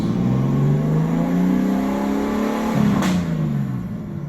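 A stock BMW M52 engine in an E36 with a CX Racing turbo kit at 8 psi revs steadily and loudly on a dyno, its tone climbing and then dropping sharply near the end, with a constant whine above it.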